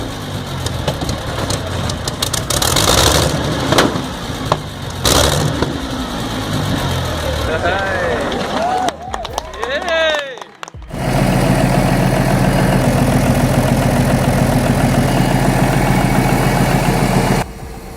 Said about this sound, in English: The Mitsubishi SR2 MPTK hums with renewed life.